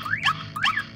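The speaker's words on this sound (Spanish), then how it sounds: "sonará la alarma para poder encontrar el vehículo" GSM GPS car alarm system sounding to locate the parked vehicle: two sweeping electronic whoops about half a second apart, moderately loud and near, with no talk.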